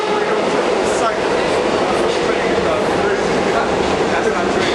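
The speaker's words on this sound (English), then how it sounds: "That's our train." Subway train arriving at a station platform, a loud, steady broadband rumble and rail roar running throughout without letup, with faint voices underneath.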